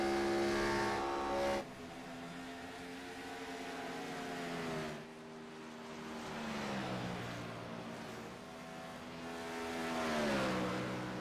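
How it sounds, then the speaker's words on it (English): A race car engine in a racing video game at the Monster Mile, loud and continuous, with rising harmonic whine as it accelerates and shifts, dipping briefly before climbing again through the straightaway. "Back on the throttle there when you get to the straightaway."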